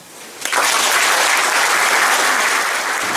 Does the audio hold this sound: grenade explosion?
no